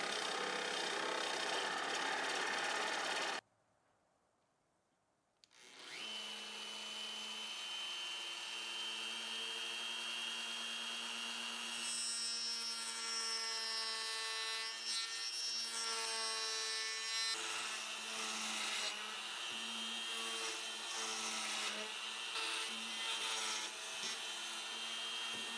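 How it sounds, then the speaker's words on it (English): A Forstner bit in a drill cutting a pocket into a wooden guitar body, a steady grinding whir with a brief pause early on, then resuming with a rising tonal hum. "Just using a Forstner bit."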